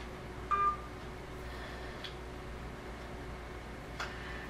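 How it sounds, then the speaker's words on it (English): An Android cell phone dialing voicemail, a single short tone followed by faint ticks over a steady hum of static and electrical interference. "And we're going to call up voicemail."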